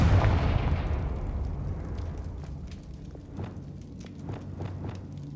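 Confringo blasting spells detonate in Hogwarts Legacy, opening with a loud booming blast that decays into rumble, then a string of sharper crackling bursts at uneven intervals.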